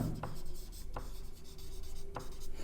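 Chalk or marker scratches across a board in a math classroom, with a few sharp taps as strokes begin, steady and close with no talking.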